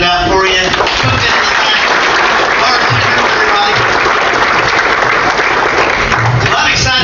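Audience applause at a hotel banquet after a served meal: dense, steady clapping from a large room that holds at full loudness for about seven seconds without letting up.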